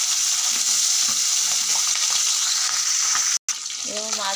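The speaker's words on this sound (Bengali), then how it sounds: "এবং মাছ ভাজা হচ্ছে, বেলে মাছ ভাজা হচ্ছে।" Bele fish frying in hot oil in a wok gives a loud, steady, dense sizzle throughout, broken by a brief dropout near the end.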